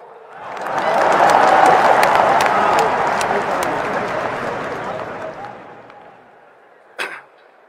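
A crowd at a political speech bursts into loud, dense clapping that swells quickly, holds for several seconds and then fades, followed by one sharp thump near the end.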